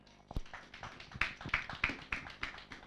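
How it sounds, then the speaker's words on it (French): A church congregation applauding for the glory of Jesus, a fairly quiet, uneven series of claps that quickly settles into a rhythmic pattern of roughly three sharp beats per second. "Acclamons pour la gloire de Jésus."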